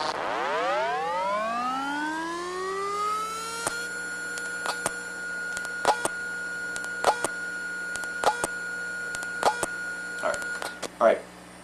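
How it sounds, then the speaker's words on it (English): Electronic chirps and sweeping tones from a crashed Western Digital hard drive as its read arm sets and resets, a rising whine settling into a steady hum broken by repeated sharp clicks and ticks, heard close and alone. "Those are the sounds of the actual reed arm setting and resetting."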